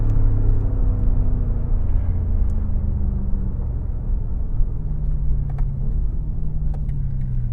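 A BMW F90 M5 Competition being driven hard through corners around Midrand, its engine a steady low rumble with road roar throughout, heard from close inside the car with no talk.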